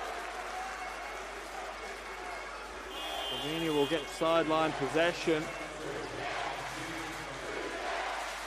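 An arena crowd at a FIBA U18 European Championship basketball semi-final between Slovenia and Turkey applauds and cheers in a steady roar that swells in the middle, while a commentator talks over it.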